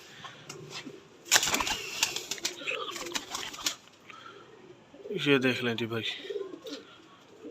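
Pure Chaudhry Sakhi pigeons coo in a close loft, with soft repeated coos and bursts of wing flapping, while someone talks over them in Hindi-Urdu.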